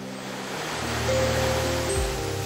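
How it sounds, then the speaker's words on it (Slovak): Hot sulphurous mineral waterfall near a volcano, a steady broad rush of falling water, close and continuous, with a low tonal hum emerging partway through. "Horúci minerálny vodopád Goa Kapur s vysokým obsahom síry."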